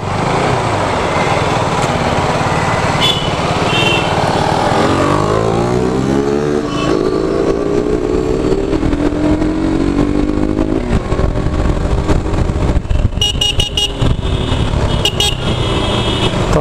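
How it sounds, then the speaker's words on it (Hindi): A Yamaha FZS motorcycle fitted with a power filter idles and revs with a loud, steady exhaust note outdoors. Pitch sweeps rise and fall, and a few horn-like toots sound near the end. "भाई का एग्जॉस्ट बहुत अच्छी तरीके से साउंड करता है, पावर फिल्टर लगाया है उन्होंने।"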